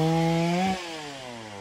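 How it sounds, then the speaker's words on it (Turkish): Chainsaw cutting up a fallen tree in a garden, its steady engine whine near and loud at first, then dropping in pitch and level as the cut eases off, with no talking. "Abim de şurada hızar yapıyor."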